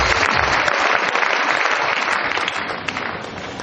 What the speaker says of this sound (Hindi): आज अगर आप इनके लिए तालियां बजाते हो